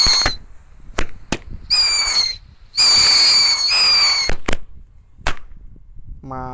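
Sharp firecracker and rocket firecracker pops and crackles go off at irregular intervals, with bursts of hissing whistles between them, loud and close.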